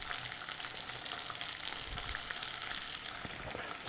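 Peppers and garlic sizzle in a frying pan, a steady crackling fry with small pops and stirring scrapes, heard up close and without talk.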